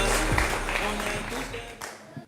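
A studio audience applauds to welcome guests onto a French talk show set, a broad, steady wash of clapping that fades as a voice begins at the end.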